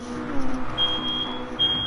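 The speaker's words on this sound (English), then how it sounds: "the fire alarm is still going off" A fire alarm sounds as a steady high electronic tone behind continuous engine and racing noise, the alarm dropping out briefly then resuming near the end.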